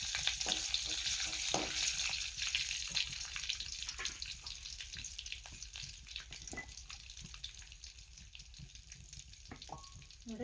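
Curry leaves go into hot oil already tempering cumin and mustard seeds for an onion palya, and a close, steady, crackling sizzle with sputtering pops runs throughout.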